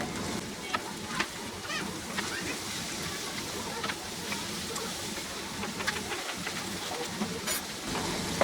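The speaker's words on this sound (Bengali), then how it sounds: "এখন এর মধ্যে দিয়ে দিব আমি পাতাকপিগুলা" Cabbage sizzles in a hot frying pan for a vegetable and egg dish, a busy, continuous hiss with scattered scraping and clicking of stirring throughout, and no talk.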